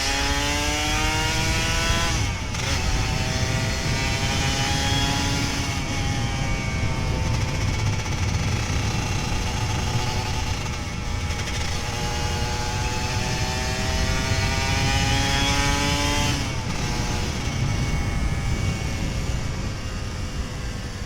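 A Kawasaki Ninja RR 150 two-stroke motorcycle engine revs repeatedly, pitch climbing and dropping in surges over a constant loud roar, with no talking.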